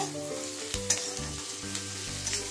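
Onion, garlic, ginger and green chili sizzle steadily in a hot pan while being stirred, with scraping clinks of the spatula scattered through the frying.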